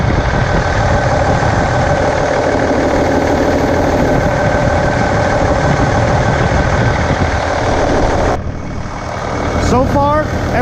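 A Case 9370 tractor's heavy diesel engine runs at a loud, steady idle close by, then drops briefly before settling back, with a short rising squeal near the end.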